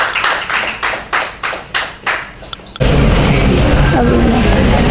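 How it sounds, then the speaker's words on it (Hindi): A handful of sharp separate claps at first, then a full burst of loud audience clapping in an ongoing roar at a cooking contest grand finale. "एक बार जोरदार तालियां"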